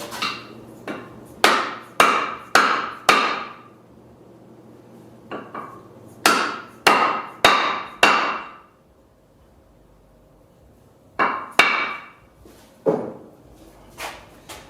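Wooden handle being pounded onto a woodturning bowl gouge: sharp, loud close hammer blows in quick clusters of three to five, with short pauses between groups.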